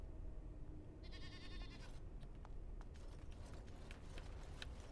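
A goat bleats once in Dragon Age: Origins, a wavering nasal cry over constant background noise, followed by scattered faint clicks.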